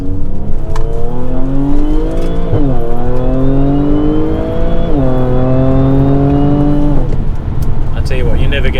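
Audi B8 S4 engine revving hard through several gear changes on a country road, pitch climbing then dropping at each shift, loud and continuous from inside the car with a brief burble at the end.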